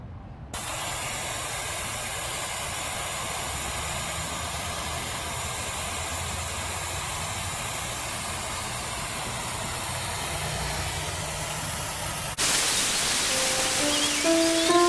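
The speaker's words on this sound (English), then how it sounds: "let's go ahead and get it started and see how long it takes to deflate these" J T Brooks automatic tire deflators let air out of tires on 17-inch rims with a steady, even hiss that goes on throughout, and a change in the sound near the end.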